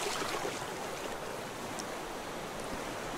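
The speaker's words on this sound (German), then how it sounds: "Wenn die Wellen so stark sind, ist das nicht lustig." Strong ocean waves surging in the survival game Raft, a steady, dense wash of surf filling the whole stretch without pause, fairly loud and close with no talking.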